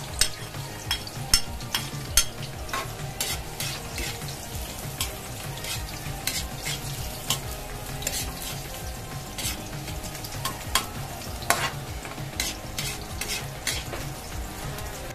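Garlic, onion and ginger sauté in a hot pan for chicken feet tinola, giving a steady close sizzle and frying crackle with frequent sharp scraping stir strokes throughout.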